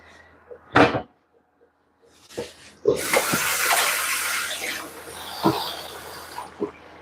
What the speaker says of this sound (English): Just have to rinse my hand because now I'm going to handle cheese.